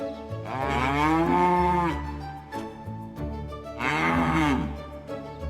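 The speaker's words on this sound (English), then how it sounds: "Moo! That's a happy moo on the farm." A farm cow moos twice, each a long, drawn-out low call rising and falling, loud and near, with a quiet pause between them and no talking.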